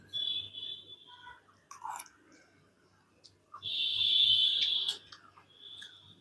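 Someone eats koozh porridge with drumstick greens stir-fry, with soft, close, intermittent chewing and mouth clicks. A high, steady whistling tone rises over it in two stretches, and nobody speaks.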